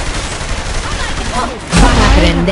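Gunfire in the video game Saints Row The Third, a loud dense burst of shots that grows heavier partway through, with excited talk over it.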